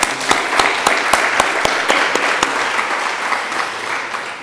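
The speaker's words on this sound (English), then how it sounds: "So I propose a round of applause to the Hungarian colleague." Applause from a seminar audience of parliamentary colleagues honoring a Hungarian colleague, steady clapping filling the room for several seconds with a few sharper individual claps standing out near the front.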